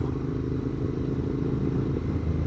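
A Royal Enfield motorcycle is ridden on a road in the Dolomites, its engine a steady, loud, low rumble with constant wind noise, close and continuous throughout.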